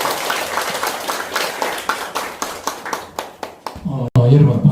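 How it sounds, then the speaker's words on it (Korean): An audience claps to welcome a lecturer at a humanities lecture, a brisk run of sharp, fairly close hand claps that thins out toward the end before a voice starts speaking. "다 같이 박수 부탁드리겠습니다."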